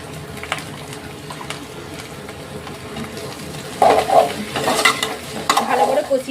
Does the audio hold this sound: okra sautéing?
yes